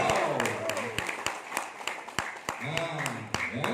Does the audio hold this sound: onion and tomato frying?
no